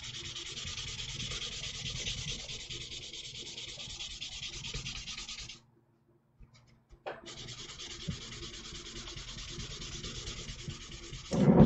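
Finish sanding a Gundam model kit: steady close-up rasping strokes of sandpaper rubbing plastic parts, running continuously, pausing briefly, then resuming.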